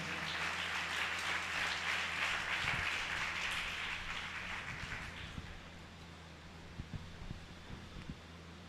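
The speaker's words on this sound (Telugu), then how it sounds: "చప్పట్లు కొడుతూ వారిని ముందుకు ఆహ్వానిద్దామా?" An audience of students at a church gathering claps to welcome a speaker: sustained, dense applause that gradually thins out over several seconds, with a few scattered claps over a low hum.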